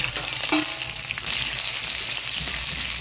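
Cut potatoes dropped into hot oil tempered with dried chilli and black cumin for bitter gourd chorchori, a loud, steady close sizzle with brief stirring scrapes.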